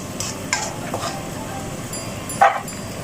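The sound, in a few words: stirring simmering chicken wing sauce in pan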